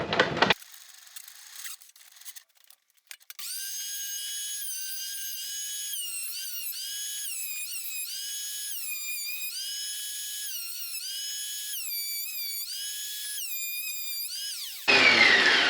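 An old scrap wood board feeds through a planer, giving a loud, steady mechanical whine with shifting tones that runs unbroken for about eleven seconds after brief handling noises, then ends abruptly in a burst of noise.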